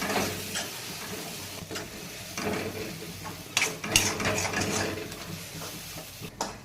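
Onions sautéing in a pan with salt, heard as a close, continuous scraping stir and light sizzle with a few sharper clatters of the spoon, with no talking.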